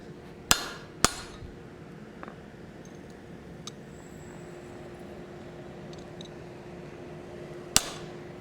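Three sharp metallic hammer strikes on an anvil while forging a hammer, two close together near the start and one near the end, ringing briefly over a quiet workshop hum.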